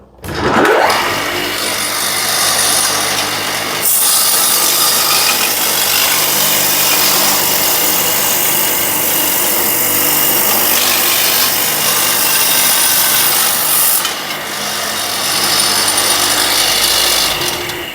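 Homemade sanding and cleaning machine, built without a lathe, running steadily for most of the stretch with a broad abrasive grinding roar and a brief dip in the middle; no talking.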